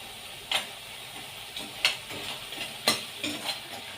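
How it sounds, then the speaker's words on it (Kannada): Fried cauliflower gobi manchurian tossed and mixed in a pan with sauce, giving a soft steady sizzle broken by several sharp scrapes and clinks of a spoon against the pan at irregular intervals. "ಫ್ರೈ ಮಾಡಿಕೊಂಡಿರುವಂಥ ಗೋಬಿಯನ್ನು ಹಾಕಿ ಮಿಕ್ಸ್ ಮಾಡ್ಕೊಳ್ಳೋಣ."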